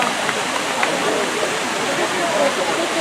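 Water pours and splashes from a fountain in a summer palace garden by the Gulf of Finland, a dense, constant rushing heard close, with voices faintly mixed in.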